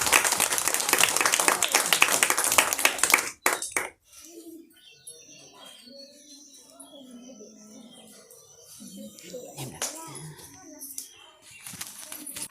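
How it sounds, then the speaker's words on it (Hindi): Children clapping at a village event, a burst of close, loud applause that stops abruptly after a few seconds, followed by quieter chatter and scattered small noises. "तालियां बजाओ बेटा, तालियां बजाओ बच्चों"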